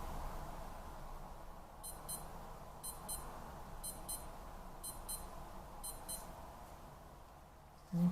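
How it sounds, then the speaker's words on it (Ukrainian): A small electronic alarm on a Skmei 1988 wristwatch beeps in quick double bursts, repeating about once per second, fairly faint over a quiet hiss of room noise. "Звук будильника доволі такий гучний, ви його почуєте."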